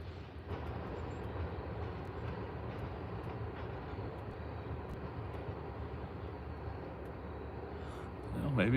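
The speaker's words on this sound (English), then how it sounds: "I could have swore I just heard the brakes blow on that train" A steady, rumbling freight train rolls past for several seconds with its brakes releasing, a continuous heavy roar that swells louder near the end.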